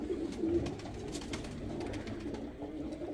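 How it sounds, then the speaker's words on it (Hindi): Sialkoti pigeons, a pair brought from Karachi, coo softly and steadily at close range, a low continuous murmur of several birds over faint background noise. "ये भी अभी कराची से लेके आए थे हम। सियालकोटी कबूतर हैं।"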